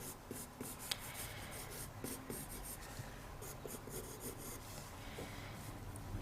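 A pencil scratches and rubs across paper while drawing a kawaii chibi character, giving soft, faint, irregular strokes with short pauses between them, heard close up.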